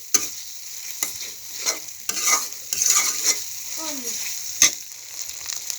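Nuts fry and are stirred in a pan for a white chicken bhuna dish, with soft sizzling broken by scraping strokes and sharp utensil clicks.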